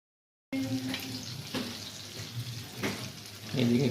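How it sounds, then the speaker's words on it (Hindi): Aloo tikki potato cutlets fry in a pan of oil with a steady broadband sizzle that fills the whole clip. A few brief scraping and clattering touches from turning the cutlets rise above it, with faint background murmur. "ये तो माशाल्लाह से टिक्की हमारी फ्राई हो गई हैं।"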